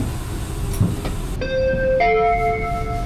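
Train interior rumble in Chicago with a steady low roar, then rising tonal whines as the train accelerates, close and continuous, no voices.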